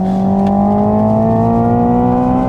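A Hyundai Ioniq 5 N electric car with its simulated engine sound switched on at a race track, a loud sustained synthetic engine tone with steady harmonics rising slightly as it accelerates, close and continuous.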